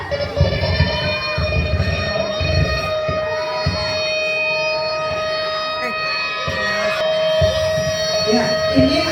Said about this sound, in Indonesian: ini adalah sirena untuk gempa bumi